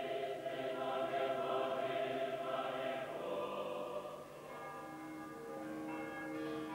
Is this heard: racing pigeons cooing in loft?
no